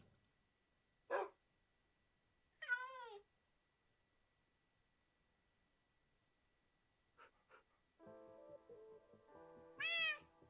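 A cat meows twice in Minecraft, short rising-falling calls spaced a couple of seconds apart, then a third louder meow rises over a rhythmic plucked game music loop that starts near the end.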